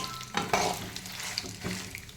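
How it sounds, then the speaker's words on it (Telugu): Peanuts frying in a pan with dried red chillies, a short close crackling sizzle broken by a couple of stirring scrapes and taps, no voices. "కొద్దిసేపు వేయించుకోండి."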